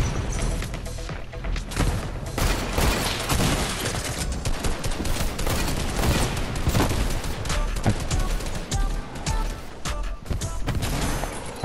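Sustained, loud Fortnite gunfire with dense overlapping bursts and occasional booms, continuous throughout with little pause.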